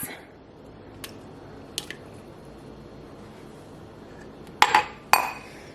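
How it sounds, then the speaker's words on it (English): Two eggs cracked into muffin batter in a bowl, small taps and clinks, then two sharp close cracks near the end with a wet squish. "next you want to add 2 eggs"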